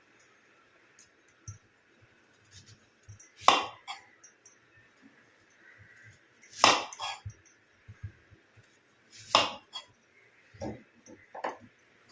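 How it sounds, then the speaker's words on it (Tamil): A knife cuts peeled green mango into small pieces on a board, with a few distinct, separated chops amid faint scattered clicks and a low background hum. "இப்போது இதை நம்ம சின்ன சின்ன பீசஸாக கட் பண்ணிக்கலாம்"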